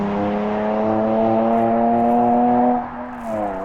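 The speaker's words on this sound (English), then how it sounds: "that was a Nissan 370Z if anyone cares" Nissan 370Z sports car accelerating past, its engine a loud, sustained harmonic drone for nearly three seconds, then dropping off sharply as it moves away, heard on a street by the commercial port near Arrecife.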